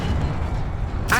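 Levioso levitation spell cast in the video game Hogwarts Legacy: a steady, dense magical rumble and hiss that ends in a sudden bright swooshing burst.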